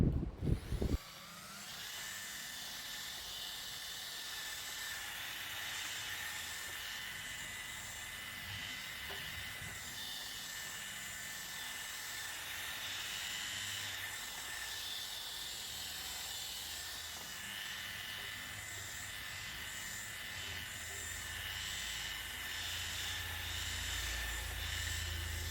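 A DongCheng DSP02-180S car polisher runs at speed setting 3 while polishing a car, giving a steady, close whirring drone with a bright high hiss that holds without a break. No one speaks.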